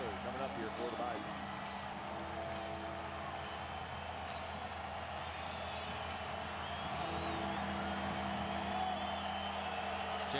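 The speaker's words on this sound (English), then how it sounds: "Jackrabbit crowd trying to get loud once again after a couple of touchdowns." Jackrabbit football crowd at a stadium game against the Bison, a dense, steady roar of cheering that holds throughout, loud and continuous, with no clear breaks.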